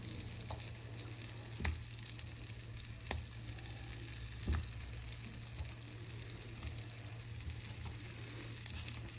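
Apple pieces with sugar fry in a pan, giving a steady low sizzle with a background hum and occasional soft knocks of stirring, fairly faint and with no talking.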